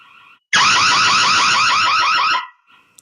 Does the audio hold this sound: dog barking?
no